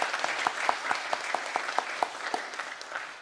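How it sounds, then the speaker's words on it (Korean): A church congregation claps in welcome to newcomers at a Sunday service, a brief round of brisk, scattered applause from many hands filling the room. "우리 다 같이 환영하는 의미에서 박수로 환영하겠습니다."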